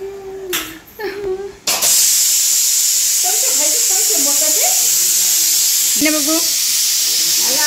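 Steady, loud steam hiss from a pressure cooker fills most of the clip, starting abruptly after a short burst of speech and continuing under occasional brief voices.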